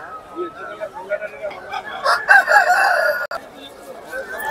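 A rooster crows loudly and nearby among clucking chickens at a place where birds are being sold, with people talking around them.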